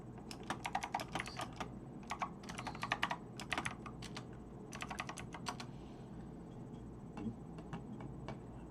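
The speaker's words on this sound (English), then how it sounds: "I'm just typing to somebody" Fingers tap rapidly on a computer keyboard in uneven bursts of clicks separated by short pauses. The typing is close but quiet, over a faint steady background hum.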